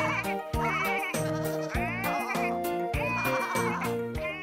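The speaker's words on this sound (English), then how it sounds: "But poor Daisy found the sheep a bit too loud." Sheep bleat loudly and repeatedly, several overlapping calls in quick succession, close by and boisterous.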